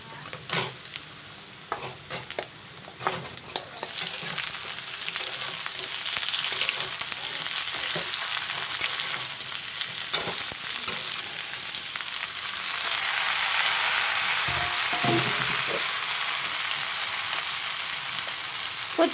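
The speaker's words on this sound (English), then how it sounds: "Now I will put in the turai." Turai (ridge gourd) and sliced onions frying in a pan, a steady close sizzle punctuated by repeated clatters and scrapes of a spoon stirring, the hiss swelling louder toward the end.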